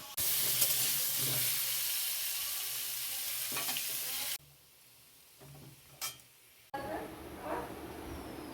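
Food sizzles and fries in a home kitchen in Bengal, a steady hiss with occasional stirring scrapes, broken by abrupt cuts to quieter stretches with light clinks, while someone speaks nearby.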